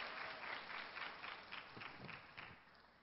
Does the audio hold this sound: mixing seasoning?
no